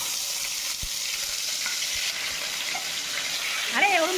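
Lote fish fritters (bora) frying in hot oil in a wok, a soft continuous sizzle with a few clinks and stirring knocks, and a brief voice near the end.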